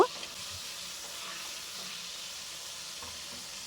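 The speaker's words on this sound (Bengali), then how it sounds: "তেল গরম হলে হাফ চামচ গোটা জিরে ফোড়ন দিয়ে তিরিশ থেকে চল্লিশ সেকেন্ড আমি এটাকে নাড়াচাড়া করে নেব" Whole cumin seeds sizzling in hot mustard oil in a pan for a mushroom curry, a faint, steady, even hiss throughout with a brief clatter at the start.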